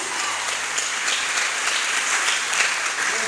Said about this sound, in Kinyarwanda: ariko wayikomeye amashyi n'abaturi kumwe